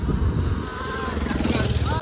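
A small Activa motor scooter engine hums steadily with road and wind rumble, as if recorded while riding along.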